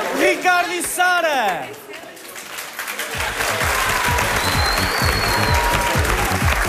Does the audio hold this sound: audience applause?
yes